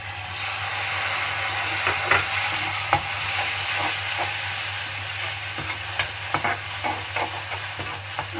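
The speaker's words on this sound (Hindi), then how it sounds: "टमाटर को सही से पकाएंगे।" Chopped tomatoes frying in a pan with garlic and onion for black masoor dal tadka, a soft continuous sizzle broken by frequent scraping stirs of a spoon against the pan.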